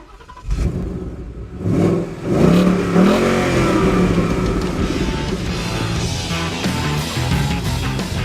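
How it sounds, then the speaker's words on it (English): A 2016 Ford Mustang's naturally aspirated 5-litre V8 starts and revs loudly up close, its deep burbling roar rising and then settling into a strong, sustained rumble with no talking over it. "instead we'd advise going for this naturally aspirated 5-litre V8"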